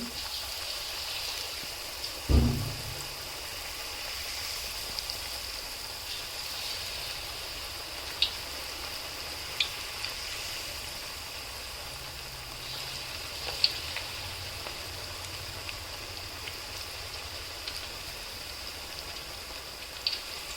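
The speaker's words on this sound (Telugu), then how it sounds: "ఆయిల్ కూడా ఇలా మసులుతూ ఉండాలి అలా అయితే గ్యారెలు చాలా మంచిగా కాలుతాయి" Lentil vadas frying in bubbling oil give a steady, even crackling hiss, like light rain, with a single louder thump near the start and a few faint pops scattered through.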